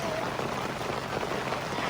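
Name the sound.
rain falling at a campsite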